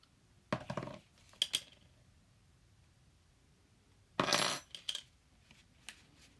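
A spoon clinks and scrapes inside a pot while sculpt-gel is mixed for special-effects makeup. Two separate bursts of sharp metallic clatter are close and fairly quiet, with near silence between them.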